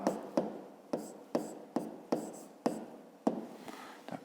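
Pen strokes scratch across paper while a fifth-grade maths answer about line segments is written down, a steady rasping broken by about ten sharp taps at a roughly even pace, close and fairly quiet.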